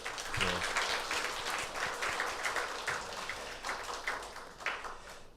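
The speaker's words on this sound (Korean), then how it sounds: "가서 공부 열심히 할 수 있도록 여러분 격려의 박수 한번 보내주실까요?" A church congregation applauds steadily during a Sunday worship service, a dense crackle of many hands that holds at an even level throughout without pause.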